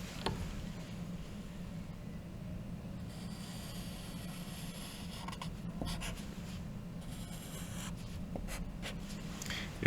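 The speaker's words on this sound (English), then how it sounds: "So if I draw a line here," A pen draws a line on a paper graph, a faint scratchy stroke over a steady background hum, close and continuous for several seconds.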